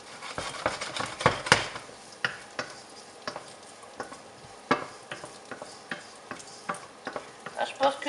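Chorizo sizzles and crackles in hot, smoking oil in a pan for a rice, chorizo and pepper dish, with a steady fry broken by frequent scraping and clinking stirs of a utensil against the pan.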